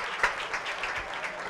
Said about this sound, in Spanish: Con la ovación que escuchan del Municipal San Pablo